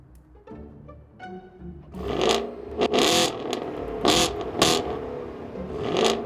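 A 2019 Chevrolet Camaro 1LT 1LE with a 4-cylinder engine revs in a few sharp, rising bursts after a low idle, each throttle blip close and loud with quick drops between.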